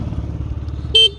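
A single short, loud Yamaha Jog SA36 scooter horn beep cuts in near the end, over the low, steady putter of its idling small engine.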